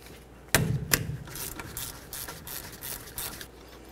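A ratchet with a 3/8 Allen socket works on brake caliper slider bolts on a 1988-2000 Chevy C/K1500 pickup: two sharp metallic knocks, then a run of quick rhythmic ratcheting clicks, close and alone.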